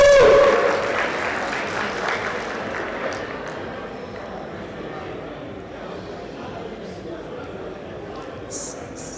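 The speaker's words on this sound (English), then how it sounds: "let's have a big round of applause for putting together this amazing program" A burst of applause from a small group at an alumni convention that quickly fades into a lingering patter of claps.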